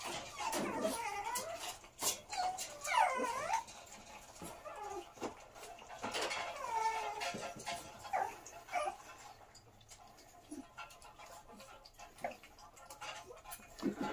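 Hungry abandoned black puppies whimper and yelp in a high, repeated chorus of short whines, loudest early on and thinning into scattered cries later, with faint clicking and background noise around them.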